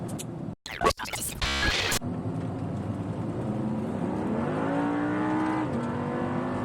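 Audi R8 V10 under hard acceleration: after a few sharp bursts and a brief loud blare, the engine settles into a strong, sustained howl whose pitch climbs through the revs, loud and close with no talk.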